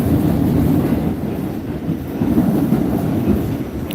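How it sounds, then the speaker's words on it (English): Ex-New York City subway train on the Staten Island Railway passing quickly, a loud, sustained low rumble of rolling cars with rhythmic rail noise, heard close. "That train went by pretty quick."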